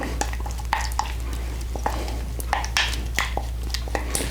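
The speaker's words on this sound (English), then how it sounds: "I take my loose cheese and I fold that in just like that" Wet, squishy stirring as loose cheese is folded into macaroni in a bowl, with soft scraping and sticky clicks repeating in an uneven rhythm, close and fairly quiet.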